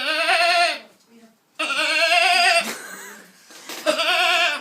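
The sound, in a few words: person imitating a lamb bleating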